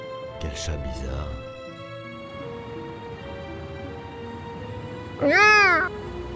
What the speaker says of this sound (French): Quel chat bizarre.